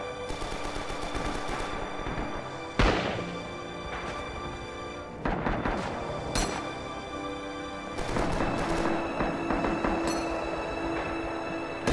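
Rifle fire and metallic clip pings from an M1 Garand in the Red Orchestra 2 shooter game, sharp shots breaking through a steady loud rumble of battle noise, with several bursts spread across the stretch.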